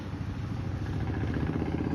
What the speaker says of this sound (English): Do you hear the motorcycle driving right there?